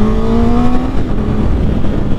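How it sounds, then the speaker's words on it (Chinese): A 2021 Honda CB650R motorcycle accelerates hard, a loud engine tone climbing steadily in pitch over about a second before settling into a sustained roar with wind noise, steady and close throughout. "好，现在做个加速 ，Go。"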